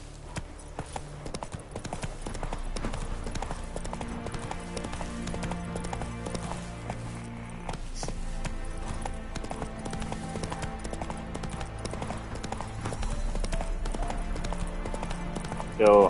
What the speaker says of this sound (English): That's not a roach, that's a horse.